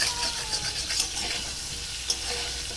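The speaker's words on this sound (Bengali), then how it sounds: "এবার আলুগুলোকে একটু লাল লাল করে ভেজে নেব" Potatoes with turmeric fry in a pan for aloo dum, giving a loud, continuous close sizzle with a few stirring knocks.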